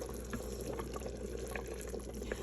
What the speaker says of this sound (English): you can also see from the bubbling how it is getting thicker